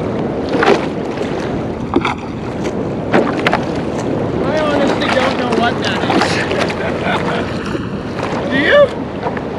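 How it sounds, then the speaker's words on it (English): A dredger working offshore off Waikiki beach, heard from the water as a low distant rumble under steady wind buffeting and sea noise, with a few faint higher tonal whines. "It's the dredger"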